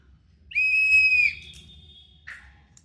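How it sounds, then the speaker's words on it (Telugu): A child blows a speech therapy whistle: one loud, steady, high whistle lasting nearly a second, then a short, fainter puff a second later, with no talking. "ఇది గ్రీషుకి బ్లోయింగ్ విజిల్"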